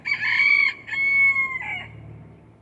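A backyard rooster crows one loud, close cock-a-doodle-doo in several drawn-out tonal segments, followed by a low murmur of other sound as it tails off.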